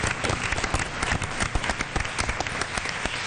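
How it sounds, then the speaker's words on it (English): Applause at a school board meeting, a crowd of hands clapping steadily at moderate volume in a meeting room for a few seconds, without voices. "Let's have another round of applause"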